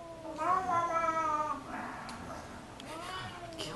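A cat gives a harsh, wavering caterwaul that rises and falls, loud at first, then trailing into a quieter second yowl.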